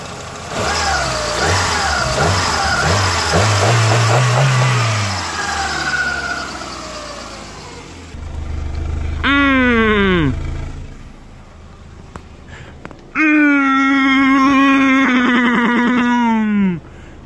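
A rebuilt Peugeot 206 engine runs rough and rich just after its first start, with uneven revving bursts and a few rising and falling whines, loud and close.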